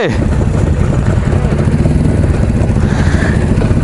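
A Jawa 350 TS motorcycle pulls away, its engine thrumming steadily and loud throughout, with speech mixed in over the running motor.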